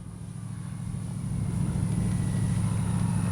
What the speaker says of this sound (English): Motor just free turning.